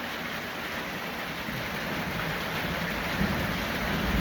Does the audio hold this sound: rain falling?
yes